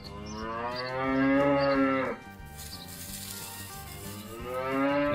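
Cattle low in long, drawn-out moos, two or three calls in a row, loud and close, with a brief pause between them and no speech.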